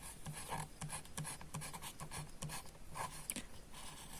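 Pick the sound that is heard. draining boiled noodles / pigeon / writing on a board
writing on a board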